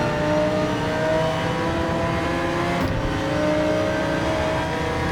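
A GT3 race car engine in Gran Turismo 7 roars at a steady high rev, dense and loud throughout with a brief dip mid-way, no talking.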